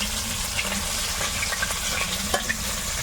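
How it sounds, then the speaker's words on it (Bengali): Several river fish frying hard in a pan, a steady close sizzle with crackling pops and occasional spatter scrapes throughout, alone without voices. "মাছগুলো ভাজা হয়ে গেছে উঠিয়ে নেবো খুব বেশি একেবারে কড়া করে ভাজিয়ে দিই"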